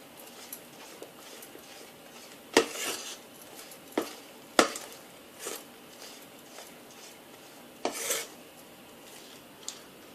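A spoon works through a chickpea flour mixture in hot oil and butter, scraping the pan with soft rubbing strokes and a few sharp clinks against the metal, close and fairly quiet with no talk.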